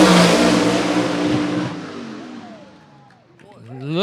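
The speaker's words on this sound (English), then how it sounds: "here's Dean Jonas giving you the good luck rev up going there" Drag racing gasser engine, Dean Jonas's car in the right lane at Shadyside Dragway, Chevy against Ford, revving loudly near at the start then fading, with a commentator talking over it.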